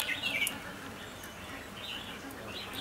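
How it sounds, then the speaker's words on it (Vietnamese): A spotted dove calls outdoors in Vietnam, its faint, distant coos and chirps rising over quiet ambient background noise. "Thấy ở chim ngoài bên kia nó gọi."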